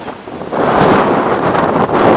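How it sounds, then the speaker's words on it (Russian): Strong hurricane-force wind roars steadily and loudly on a swaying lookout tower by Lake Raigastvere, Vooremaa, eastern Estonia, buffeting close to the microphone with a continuous rushing blast. "Сейчас сильный ветер дует, ураганный, и вышка качается."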